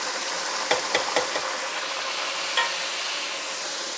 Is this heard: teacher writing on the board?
no